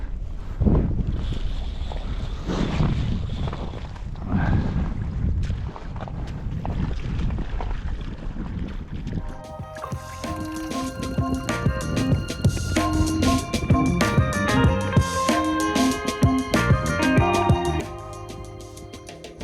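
Wind and rain buffet a fishing boat at Yakutat, Alaska, a steady rushing roar with gusts, joined in the second half by a busy layer of clattering and rattling over the wind.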